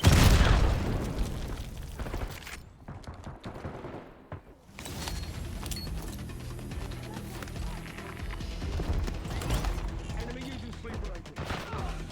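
A grenade explodes in Call of Duty: Black Ops 6, a loud booming blast followed by dense, continuous gunfire and battle noise with further bursts and impacts throughout.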